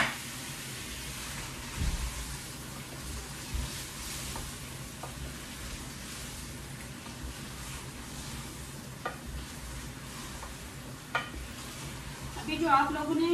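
Chicken fries in a pan with chopped tomatoes, giving a steady soft sizzle with occasional scrapes and clinks of stirring, and a brief louder clatter near the end.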